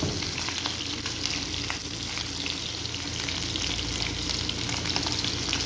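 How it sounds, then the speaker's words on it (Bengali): Spiced boal fish fries in a pan with a loud, dense, continuous sizzle and crackle that holds steady throughout, with no voices. "এখানে মাছ ভাজা চলতেছে"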